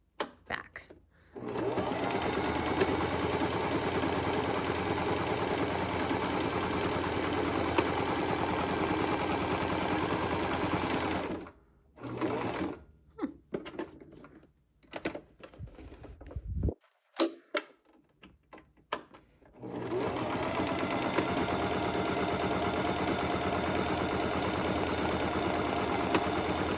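A sewing machine stitches a buttonhole at a stitch width of 5, running in a loud, steady rapid whir for about ten seconds, breaking into short bursts and pauses, then resuming a long continuous run.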